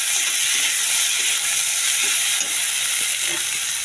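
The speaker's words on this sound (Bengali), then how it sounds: "এই মাছগুলি দিয়ে দিচ্ছি, নাড়াচাড়া করে নেব" Fish stirred in a hot pan for a curry, a steady loud sizzle and hiss with faint scraping under it and no talk.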